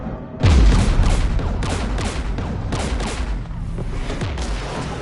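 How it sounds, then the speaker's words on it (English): Sustained gunfire and explosive booms from combat in the video game Mass Effect 3, loud and dense throughout, with a heavy impact near the start and rapid volleys continuing over a rumbling background. "We're taking fire."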